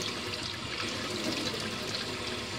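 Tap water runs under strong pressure over grain being rinsed for homemade carp bait, a loud continuous gushing and splashing close by, with no talk.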